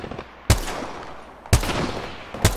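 Three sharp, loud gunshots from a weapon in the online shooter game Apex Legends crack at irregular intervals, each followed by a brief ringing decay, with no talk.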